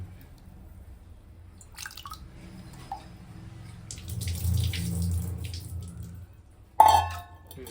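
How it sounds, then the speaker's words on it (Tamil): Lentils for sambar are rinsed in a pot under running tap water: a soft trickle and splash that swells midway, with dripping and a sharper splash of water near the end, and no talking. "பருப்பை கழுவி போடணும்"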